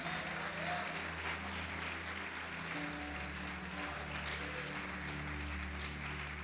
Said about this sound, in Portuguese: Pode aplaudir, glorificar o Senhor